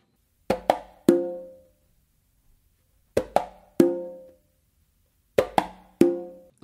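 Three congas played in a cumbia pattern: three sharp hand strikes, a closed slap with each hand in the drum's centre then an open tone, repeated three times with pauses between groups, close and alone.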